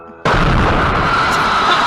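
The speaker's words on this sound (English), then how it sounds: "It was the drone blowing up on the distillery." A drone strike explodes on a distillery in Russia, a sudden loud blast that erupts and then rumbles on as a dense, sustained roar of noise.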